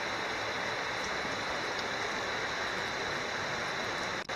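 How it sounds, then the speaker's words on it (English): Steady light rain falls, with water dripping off the edge of a roof, making a continuous even patter and hiss with no voices. "we've got a pretty steady, light rain going on. And it's finally rained enough that we have water dripping off the edge of the roof"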